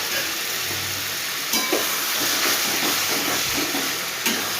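Boiled potatoes tipped into a frying curry for a prawn and pointed gourd dish, with steady sizzling and hiss punctuated by a few soft stirring thumps, close and continuous without talk.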